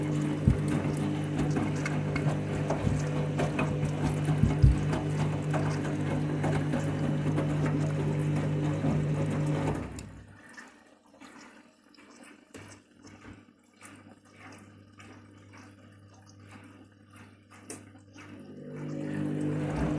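Water rushes steadily into a washing machine filling for its final rinse for about ten seconds, then cuts off, leaving quiet clicks and faint mechanical ticks before a low hum returns near the end.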